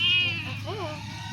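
A small domestic animal gives a short bleat-like cry, loud and close at the start, with a brief wavering second call under a low steady hum; the tags lean toward sheep or cat rather than goat.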